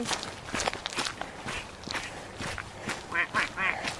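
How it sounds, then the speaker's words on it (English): A small group of ducks at a duck pond quacking nearby while footsteps crunch steadily past, the quacks rising louder toward the end. "we're going to have to disturb a little group of ducks"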